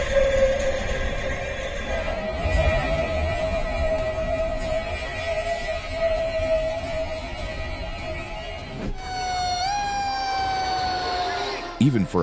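A fire truck near a train sounds a wailing siren over a dense rumbling backdrop, the tone sweeping sharply upward near the end, with a voice speaking briefly.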